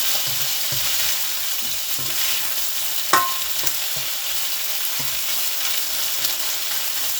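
Cumin seeds frying in a pan for chicken fried rice: a steady, even sizzle throughout, with soft stirring and a single sharp clink of a utensil midway.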